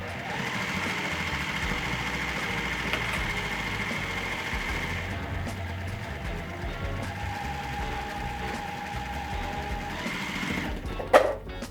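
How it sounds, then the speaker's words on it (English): A sewing machine stitches the final seam of a minky blanket, its motor running as a steady close whirring hum for several seconds before a brief louder clack at the end. "then we're gonna sew our final seam"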